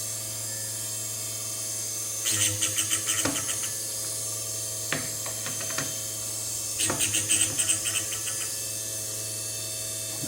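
A whining drill point splitter grinds a drill bit in short high-pitched bursts against metal, repeated in a few separate passes over a steady motor hum.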